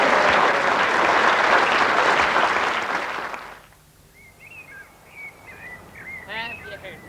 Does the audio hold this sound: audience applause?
yes